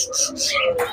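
Pigeons, including cross-bred King pigeons, cooing close by in a bird shop in Barisal, a short burst of soft coos and chirps with other birds calling around.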